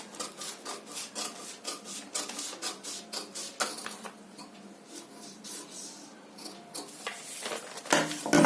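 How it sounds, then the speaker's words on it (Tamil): Scissors snip through blouse sleeve fabric in a run of close, rasping cuts for about eight seconds, with no talk over them. "ஸோ ஃப்ரண்ட்டுக்கும் கட் பண்ணி எடுத்துக்குவோம்."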